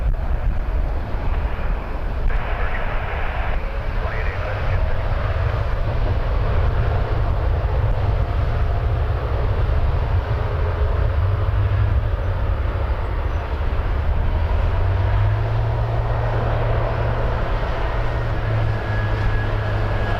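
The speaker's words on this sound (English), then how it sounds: "Air Canada 90, just cleared for takeoff." An Air Canada Boeing 787-9 Dreamliner takes off at night from Toronto Pearson airport. Its jet engines make a loud, sustained broadband roar, and a low droning tone rises toward the end, with no voices.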